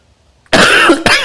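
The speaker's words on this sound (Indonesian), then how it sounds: "Saya sudah minta izin di awal ya untuk diselingi dengan batuk" A single harsh cough bursts out close and loud, followed by a short second cough, during an Islamic lecture with no other talk.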